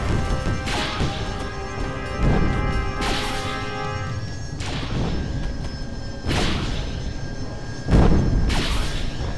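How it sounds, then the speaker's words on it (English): Video game Carrier Command: Gaea Mission combat with repeated heavy crashing impacts and explosions over a continuous engine drone, loud bursts arriving every second or two. "Wow, that's a lot of gunfire."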